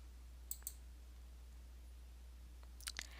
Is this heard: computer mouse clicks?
yes